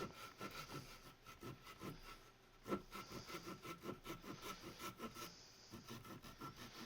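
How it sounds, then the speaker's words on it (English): A handsaw cuts through drywall by hand in quick, even back-and-forth strokes, a steady rasping rhythm heard close up and faint with no voices. "this is probably the best way to cut drywall if you're not sure what's going on behind the drywall"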